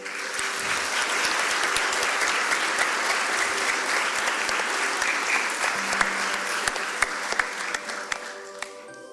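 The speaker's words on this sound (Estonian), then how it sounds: "Nii et see väärib veel ühte aplausi." Concert audience applauding at a Christmas concert in a school auditorium, a dense, steady wash of clapping for about nine seconds that thins toward the end with a few louder individual claps.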